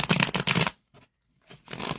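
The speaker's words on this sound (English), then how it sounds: "Let me shuffle these up a little bit." A deck of playing cards being shuffled, two quick riffle bursts separated by a brief pause, close and crisp.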